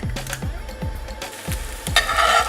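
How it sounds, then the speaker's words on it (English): Eggs sizzle and crackle in a hot pan, with repeated soft scraping strokes of a utensil and a brighter hiss building near the end. "Break the eggs and pour into the frying pan."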